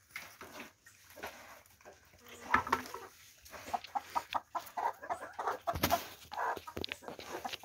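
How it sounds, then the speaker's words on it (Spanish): Chickens on a farm that also raises pigs cluck and squawk close by in irregular bursts, growing busier toward the end, with scattered rustling around them. "Miren cómo anda la gallina Doña Teresa aquí."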